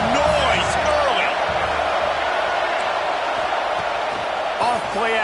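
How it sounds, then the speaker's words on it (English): Stadium crowd in the NCAA 25 college football video game makes a continuous, dense roar that stays loud throughout, with a commentator's voice talking over it. "This crowd bringing the energy and noise early."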